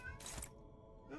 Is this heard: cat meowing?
yes